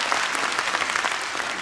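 Warm audience applause at a business testimony convention in Taipei's TICC hall, a short burst of dense, even clapping with no talk over it.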